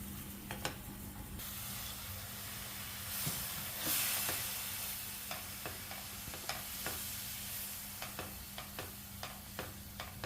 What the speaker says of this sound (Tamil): இப்போ இந்த பச்சை வாசனை போகிற வரைக்கும் வதக்கிட்டு நம்ம காலிஃப்ளவரை இதோடு சேர்த்துக்கலாம்